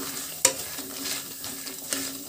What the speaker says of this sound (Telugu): అలాగే మినపప్పు కూడా వేసేసాను కొద్దిగా వేగాక మిగతా దినుసులను వేసి కొద్దిగా వేయించుకోవాలి